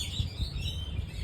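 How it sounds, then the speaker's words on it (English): A small friendly budgie, newly out of the breeding box in an aviary, gives a few quick high chirps close by, with soft low thumps between them. "We found this little budgie today."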